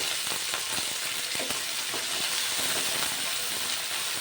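Green peas hit hot oil flavoured with asafoetida in a kadai and fry with a loud, continuous close sizzle, broken by a few light stirring clinks.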